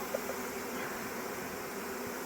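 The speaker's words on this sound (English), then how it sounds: "Weirdly, I'm not freaking out with all these bees buzzing around me" Bees buzz around close by in a continuous, even drone on a spring homestead, steady throughout the short stretch with no talking.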